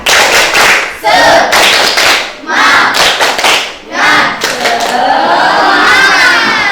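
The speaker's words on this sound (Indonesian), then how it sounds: "Tepuk tangan dulu ya. Semangat, kita tepuk semangat lagi." A class of students claps loudly in bursts of rhythmic patterns during a lesson, with shouts and cheering voices mixed in between the claps.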